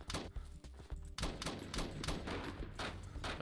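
Rapid gunfire from an M6A2 rifle in the Roblox shooter BRM5, a dense run of sharp shots that stops briefly before resuming in quick bursts, loud and close, with no talking.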